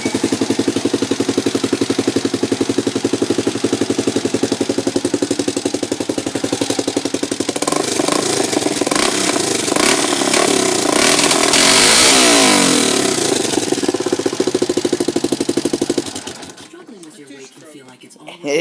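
A Kawasaki Mojave 250 quad with an aftermarket two-stroke-style exhaust runs close by, its engine buzzing loud and raspy with rising revs throughout before cutting back sharply near the end.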